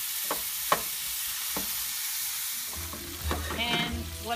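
Hamburger meat browning in a pan, a steady crackling sizzle with a few scraping stirs, growing busier and louder toward the end, close and alone without speech.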